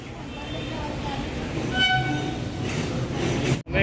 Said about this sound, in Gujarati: ટ્રેન આવી રહી છે.